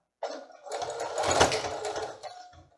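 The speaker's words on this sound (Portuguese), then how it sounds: "Se você quiser começar a costurar direto assim, pode ser que a máquina fique emperrando no lugar e não puxe." A domestic sewing machine stitches across a cotton dish towel, a short close run of rapid mechanical whirring and needle chatter that starts abruptly, swells, then tapers off, with no one speaking.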